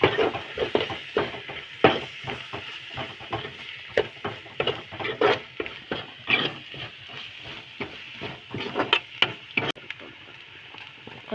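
Coriander powder being stirred into a fish curry in a pan, with repeated scraping and stirring strokes over a light sizzle, close and fairly loud, in an irregular rhythm.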